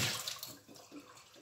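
Water rushes from a faucet into a sink in a brand-new kitchen. The hiss is steady and soft and lasts only a moment.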